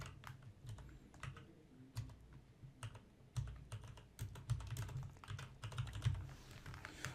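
Close, quiet keystrokes rattle across a computer keyboard in irregular bursts while data is entered into a database, with uneven clusters of clicks and short pauses.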